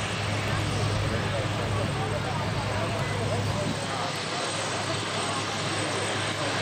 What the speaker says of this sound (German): giving us a view of something of a performance takeoff there